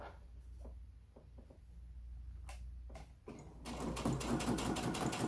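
A sewing machine stitches down seam binding on a lunchbox placemat, with a quiet whirring run, short bursts and pauses, then a louder sustained stitching stretch near the end, close and alone.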